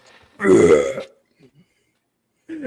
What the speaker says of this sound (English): he fucking burps in his face